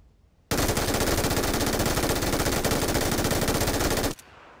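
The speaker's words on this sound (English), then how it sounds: "if I stand and shoot in a fast rate of fire" An MG3 machine gun in the video game PUBG fires one loud, unbroken burst lasting about three and a half seconds, with a rapid, even cadence that cuts off sharply.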